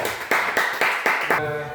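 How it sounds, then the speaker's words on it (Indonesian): A primary school class claps in unison, five crisp synchronized claps in a steady rhythm, close and loud, followed by a brief voice. "tepuk tangan semuanya"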